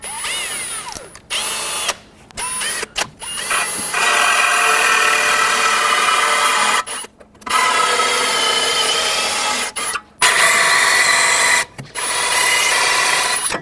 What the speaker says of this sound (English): So I'm going to use a stepper drill bit just to get things started